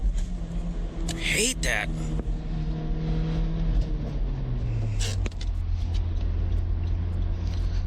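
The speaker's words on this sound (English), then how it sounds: "See if I step on it in second gear." A front-wheel-drive car accelerating hard in second gear, its engine note climbing in a steady rising drone heard from inside the cabin, with a person speaking briefly over it.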